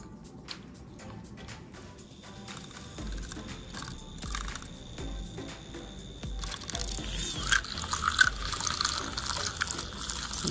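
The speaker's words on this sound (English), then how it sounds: "I am putting just a little bit of the heavy whipping cream into a container" Heavy whipping cream and caramel are poured into a container for a homemade fall drink, a close, steady liquid pour that fills and grows louder and brighter toward the end, with no talk.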